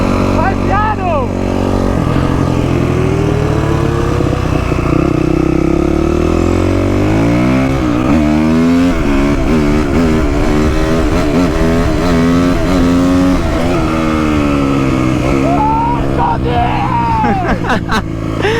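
A TM SMR 300 motorcycle revs repeatedly at a bike rally, its engine climbing and falling through loud, rising and dropping pitch sweeps, with people talking over it.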